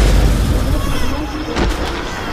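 A logic bomb explodes in the video game Remember Me, a dense, booming burst that fills the clip, loud and close, with a sharper hit near the end.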